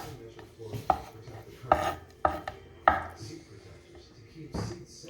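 Knife chopping a large scallop into small pieces on a cutting board, a few sharp irregular chops with softer scraping between, close and fairly quiet, no voices.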